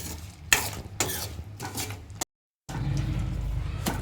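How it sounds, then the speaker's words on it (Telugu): Jujube fruits boiling in melted jaggery are stirred in a pot, giving repeated scraping, bubbling strokes close by, broken by a brief silent gap before a steady simmering stir resumes. "ఈ బెల్లం మొత్తం కరిగి ఈ రేగు పండుకు తగిలేటట్లు కలుపుకొని బాయిల్ చేసుకోవాలి"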